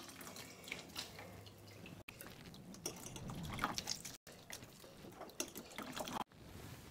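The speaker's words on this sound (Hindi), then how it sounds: "इस तरह हमें दबा के निचोड़ देने हैं, ताकि सारा पानी इसमें का निकल जाए" Soaked soybeans squeezed by hand over a bowl, with wet splashing and trickling water in bursts broken by short pauses, close and fairly soft.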